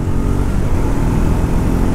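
A Triumph Scrambler 400X single-cylinder 400cc motorcycle engine pulls hard with a steady, loud, close-up rumbling drone that holds evenly throughout.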